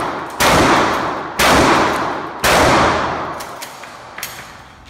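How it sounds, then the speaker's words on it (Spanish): Mossberg 500 shotgun fired outdoors, three loud, sharp blasts about a second apart, each followed by a long decaying echo, with smaller clicks and clatter afterward. "Vamos a hacer los 5 tiros de la escopeta Mossberg 500."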